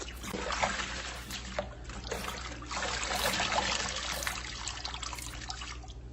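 Pre-washed salad greens being rinsed and scrubbed by hand in a sink of water, with steady sloshing and trickling splashes that swell and fade in waves, fairly close, no talk.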